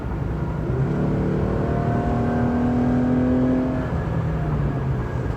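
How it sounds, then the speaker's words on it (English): A 2015 Lexus RC 350 F Sport accelerates in a steady, continuous pull, its engine note climbing in pitch over about four seconds before easing off, heard loud and close from inside the cabin with no talking. "let's try to accelerate again and just see what it feels like."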